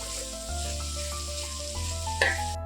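Onions browning in a pan for chicken biryani, a steady close sizzle with a low hum underneath and a sharp stirring clatter near the end, no speech.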